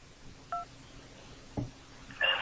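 A phone number punched in on a telephone keypad: a few separate short electronic tone beeps spaced apart, faint and close, with no talk.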